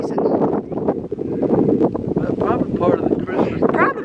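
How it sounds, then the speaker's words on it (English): Strong, hot wind rushes outdoors in a small Alabama town, buffeting the microphone with low rumbling gusts while a person talks over it. "It is amazingly windy out here today."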